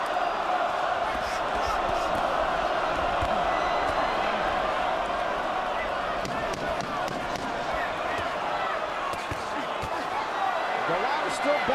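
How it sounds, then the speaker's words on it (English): Arena crowd at a heavyweight boxing bout between Chris Byrd and Andrew Golota, a steady loud roar of murmuring, shouting and mixed cheers that holds for the whole stretch with no clear pauses. "pretty mixed reaction from the crowd"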